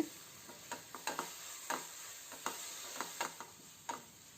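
Spice powders and tomato sauce being stirred in a pan, a run of faint scraping and tapping strokes at an uneven rhythm over a quiet sizzle, with no voices.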